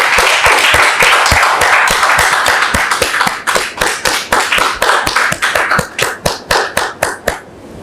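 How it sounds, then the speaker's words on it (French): Studio audience on a French-language television talk show applauding, dense loud clapping at first that thins into a slower, rhythmic unison clap before fading out at the end. "que nous recevons sous vos applaudissements."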